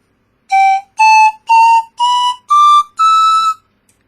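A blues scale played on a pipe, six separate clear whistle-like notes stepping upward in a steady even rhythm, close and alone with no talk.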